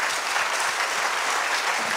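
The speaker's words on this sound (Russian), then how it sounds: "Тони Робинсу хлопайте." Applause from an audience at a Russian business motivational seminar, a dense steady wash of many hands clapping, loud and close, continuous throughout.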